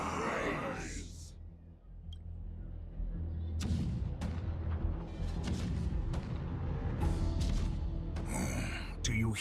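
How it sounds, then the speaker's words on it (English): Cannon fire rumbling in the video game Honkai: Star Rail, a run of deep booms and blasts repeating through the scene over a low continuous battle rumble, loud and close. "The rumble of the cannons."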